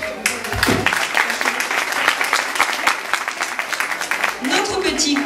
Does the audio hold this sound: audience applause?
yes